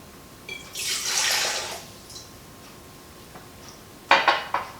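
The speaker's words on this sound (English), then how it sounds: "we're going to mix a cup of hot tap water" Hot tap water running briefly into a cup or bowl for a bread sponge, a soft hissing pour lasting about a second, followed by light clinks of dishes and utensils, faint and with no talk.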